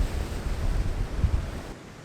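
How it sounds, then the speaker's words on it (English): Ocean waves crash and wash onto the shore in Bundjalung National Park during high surf, a steady rushing roar with low rumbling surges, close and fairly loud, with no voices. "Those waves really came in."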